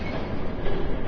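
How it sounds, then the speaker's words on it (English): A train rumbles past in a Batman video game, a steady, loud and continuous roar of rail noise with a faint rhythmic clatter, heard up close with no talking over it. "There's a train coming."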